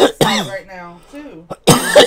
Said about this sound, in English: That's not the COVID cough. That's the weed cough.